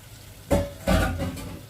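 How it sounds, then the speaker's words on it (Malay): Prawn curry sautéing in a pan, two bursts of stirring and sizzling about a second apart, each fading into a gentle continuous fry, close and moderately loud with no talk. "Okey, kita tumis lagi sampai dia sebati"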